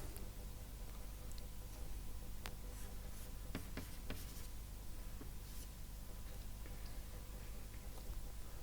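Chemical structures drawn on a lecture board during an organometallic chemistry lecture: faint, sparse taps and short scratches of the pen or chalk against a quiet room hum.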